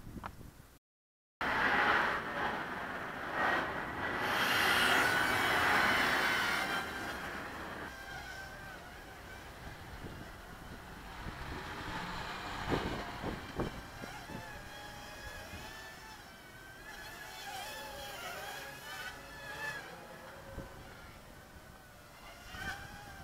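An Eachine H8 Mini quadcopter drone flies under Taranis radio control, its whining buzz rising and falling as the throttle changes, with a brief dropout near the start and the sound fading somewhat toward the end.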